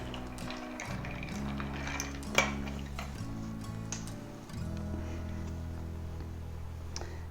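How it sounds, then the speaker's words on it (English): A spoon stirs a Bloody Mary over ice in a glass, making light ticking clinks and one sharper knock under steady background music, with no talking. "Add ice quietly. Stir it again."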